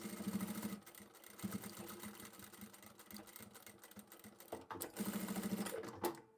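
A sewing machine with a size 110 needle stitches a belt loop keeper onto trouser fabric, running forward, back and forward in short, steady mechanical bursts, close and clear with no voices.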